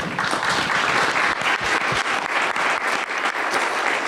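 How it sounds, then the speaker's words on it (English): An audience at a national education report release event applauds the moderator and panelists. Steady, dense clapping from a sizable crowd fills the whole stretch at an even level, with no voices on top. "A well-deserved round of applause for our moderator and all of our panelists."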